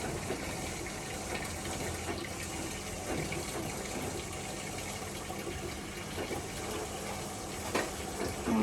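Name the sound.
cleaning machine sucking up water during a test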